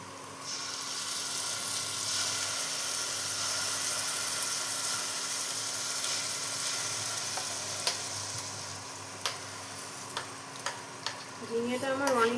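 Ridge gourd paste and spices fry and sizzle in a pan, a continuous close hiss, with scattered clicks and scraping stirs building toward the end.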